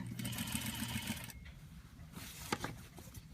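A sewing machine runs a steady burst of regular-length stitching with a back stitch across a neckline facing, then stops; faint handling clicks and rustles follow.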